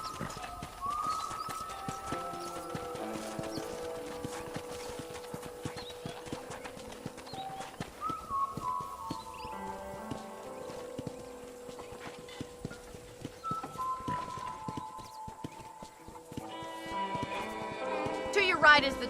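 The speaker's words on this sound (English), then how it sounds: "let's see if you can still ride a horse" Horse hooves clip-clop steadily during a ride in the Red Dead Redemption video game. The quiet, continuous hoofbeats run under background music and occasional talk.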